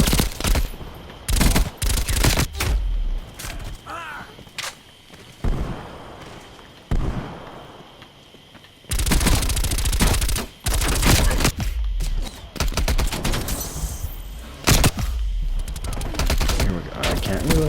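MP5 submachine gun in Black Ops Cold War firing loud automatic bursts, several sharp volleys separated by short pauses, up close with game ambience between.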